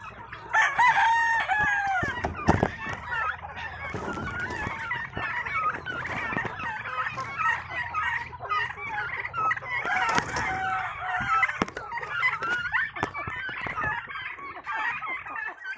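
Rhode Island Red chickens crow and cluck among turkeys in a farm pen, the rooster calls repeating over steady clucking, with occasional knocks and a dog barking faintly in the background.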